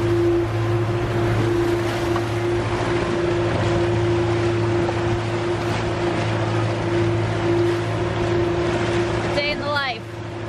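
A sailboat out in rough sea, with a constant roar of wind and rushing water under a steady droning hum, loud and close for the whole stretch.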